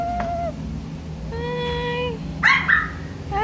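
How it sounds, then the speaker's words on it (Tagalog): A dog at a beachfront lets out high whimpers and whining yelps, then a sharp bark, close by over low background noise, with a person briefly exclaiming. "ang cute ng aso"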